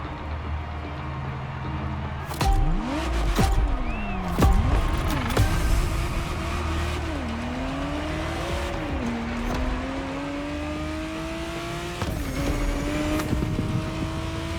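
Ferrari Testarossa engine revving and shifting through gears in the racing game The Crew Motorfest, steady loud drone with repeated rising pitch sweeps and short bursts, continuous throughout.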